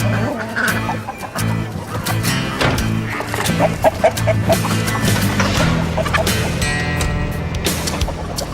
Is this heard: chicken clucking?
yes